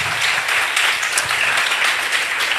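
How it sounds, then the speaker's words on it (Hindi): A church congregation applauds together after a prayer, a dense, steady wash of clapping from many hands that holds at an even, fairly loud level throughout. "एक अच्छी ताली के साथ"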